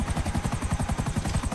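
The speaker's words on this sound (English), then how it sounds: "If I could just get away from this bloody chopper." Helicopter in the video game GTA Online, rotor blades chopping in a fast, regular thumping pulse, loud and close, steady throughout with no talk.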